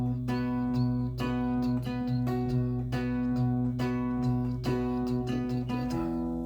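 Electric guitar picking the verse of a song, a steady riff of single notes and short chord hits with quick attacks, played alone up close at moderate volume.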